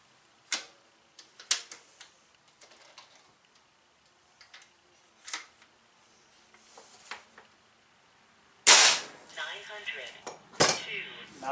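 An AEA .357 air rifle charged to 4500 psi firing several sharp, separate shots with a valve not fully opening, each a crisp crack with pauses between and a louder cluster near the end.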